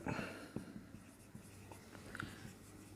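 A pen writes down a math expression for a limit along a path: faint, soft scratches and taps in quiet surroundings, with no talk.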